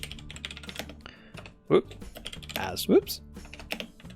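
Fingers clatter on a computer keyboard in quick irregular bursts of close, crisp clicks, with someone briefly speaking between keystrokes.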